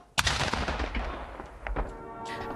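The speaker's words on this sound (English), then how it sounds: "Once at the Capitol, he received a gun salute fired from cannons." Ceremonial cannon salute for a state funeral at the Capitol: a sharp, heavy boom followed by a second report and rolling echoes, fairly distant outdoors.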